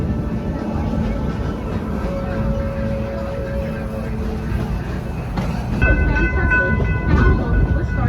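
A train on the Busch Gardens Williamsburg railway rumbles loudly with a steady rolling drone and squealing tones, and an announcer's voice speaks over it.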